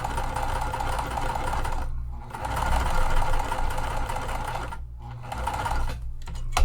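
A sewing machine runs across fabric at its longest stitch length for a pool tote, a loud continuous whir broken by two brief pauses.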